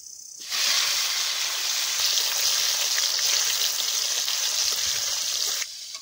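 Chopped tomato hits hot oil tempered with bay leaves, dried red chillies and cumin seeds, giving a steady close sizzle and hiss that starts abruptly and holds for about five seconds.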